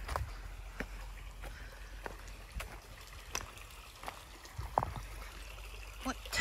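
Water trickles and gurgles steadily in a creek along a canyon nature trail, a soft continuous flow with occasional brief clicks and bumps nearby, no talking.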